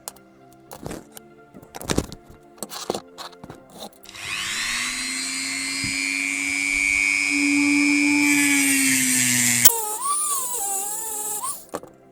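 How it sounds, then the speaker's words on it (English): A Dremel rotary tool grinds a groove into a metal motor shaft for a 3D-printed RC loader. A few light taps come first, then a loud, steady high-pitched whine lasts about five seconds before shifting pitch and trailing off. "I'm going to use the Dremel and create a groove so that when I screw these set screws in, they will lock onto the motor"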